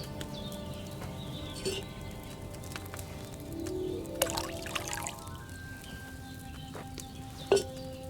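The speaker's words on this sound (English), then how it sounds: "First, you have to pour the right base into the cauldron." Wine pours into a cauldron in the medieval game Kingdom Come: Deliverance II, a quiet trickle and splash with faint clinks of the pitcher and soft ambient noise around it, no voices.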